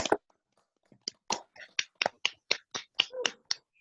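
Participants in an online meeting clap for a presenter. A short, sparse run of about a dozen crisp claps comes through thin and small, as if over a call, with a brief pause near the start.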